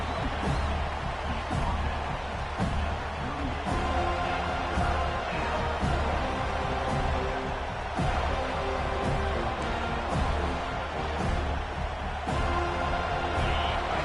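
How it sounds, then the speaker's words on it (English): Stadium crowd noise at an American football game, a dense continuous roar of many voices that holds at a steady level throughout, with no single voice standing out. "It's early, but this crowd is fired up. Listen to this noise here."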